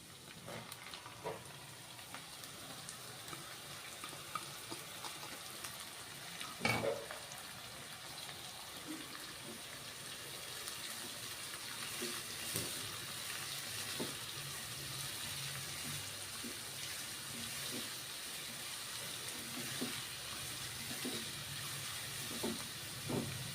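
Green onions sizzle steadily in a pan with ginger, chillies and garlic, giving a constant soft crackling hiss with occasional louder pops and stirring clatters.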